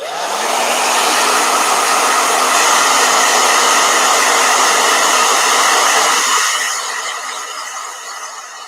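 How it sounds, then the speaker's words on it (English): A hair dryer blows loudly and close, spinning up quickly into a steady airy roar with a faint whine, then dropping in pitch and fading slightly as it winds down near the end. "Let me blow dryer."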